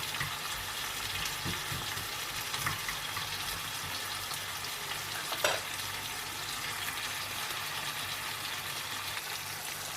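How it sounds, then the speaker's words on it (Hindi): Onions fry in a pan until golden, giving a steady broadband sizzle that holds evenly throughout, with a brief scrape or clink near the middle and no voices. "अब ये देखें प्याज को मैंने अच्छा सा गोल्डन कर लिया है"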